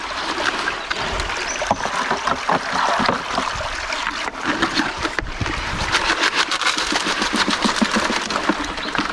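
Water sloshing and splashing as rocks are rinsed in a gold pan during gold prospecting, a close, steady, gurgling wash with irregular clatter throughout and no talking.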